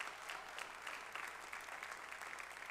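A church congregation claps together during a worship service, a continuous, fairly soft and even burst of many hands with no speech over it.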